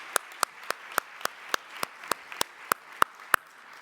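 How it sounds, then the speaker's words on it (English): Scattered, evenly spaced claps ring out at a nursing awards ceremony, only a few sharp hand claps about every quarter second, fairly close and distinct rather than a full crowd ovation. "let's please give another round of applause to all of these award recipients"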